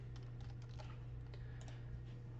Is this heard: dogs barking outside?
no